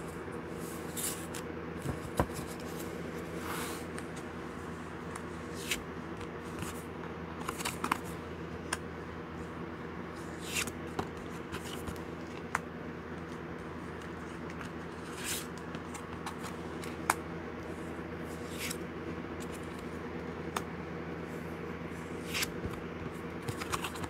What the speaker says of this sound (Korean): 카드 5장을 선택해 볼게요